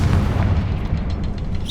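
A Confringo spell explodes in the Hogwarts Legacy video game: a short, deep booming blast with a rumbling low-end tail.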